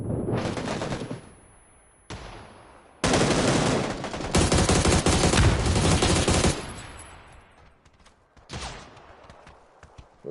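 Gunfire in PUBG: Battlegrounds, with bursts of loud, rapid automatic fire in long sustained runs and brief gaps between them, the shots ringing out in the game's outdoor setting.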